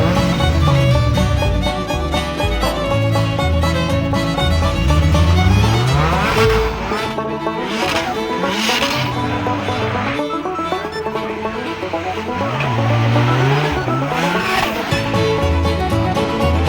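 Toyota AE86 drift car on a qualifying run, its engine loud and continuous with repeated revving rises and falls, tire squeal mixed in throughout, close and sustained.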